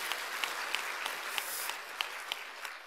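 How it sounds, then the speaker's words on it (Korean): Church congregation applause during a worship service, a soft, moderately dense patter of clapping with a few sharper individual claps poking through at intervals. "하나님께 영광의 박수 올려드립니다"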